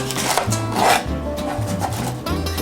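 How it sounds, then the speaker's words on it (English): Kitchen knife trimming leaves off celery stalks on a board, close rasping rubs and scrapes in short irregular strokes. "Anything that resembles a leaf, trim off."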